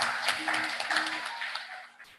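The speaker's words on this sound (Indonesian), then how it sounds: "Tepuk tangan untuk kita semuanya" An audience at a university integrity zone declaration ceremony claps briefly, a burst of applause that fades out over about two seconds, with a voice heard faintly behind it.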